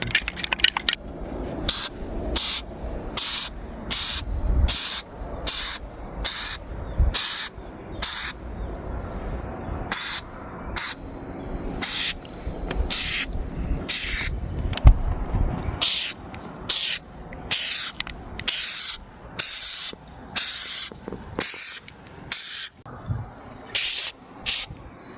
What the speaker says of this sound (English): So we're gonna try Flex Seal spray.